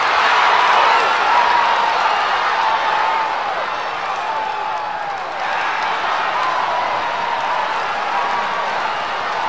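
A stadium crowd in a cartoon-style racing video game applauds and cheers in a continuous wash of clapping and distant whoops, loud at first, dipping briefly in the middle, then holding steady.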